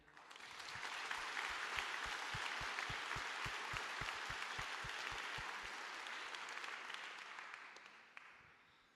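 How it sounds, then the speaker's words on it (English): Sustained audience applause at a Ukrainian Independence Day 2024 ceremony, a dense wash of many hands clapping that stays loud for several seconds with a steady rhythmic beat under it, then tapers off near the end. "I would like to ask everyone to applaud to her again."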